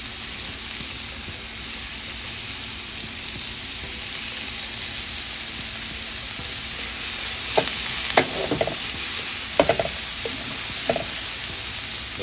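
Vegetables sizzle steadily in a hot pan for a veggie wrap, a constant frying hiss. Toward the end, a few scraping, clinking stirs from a utensil break through the sizzle.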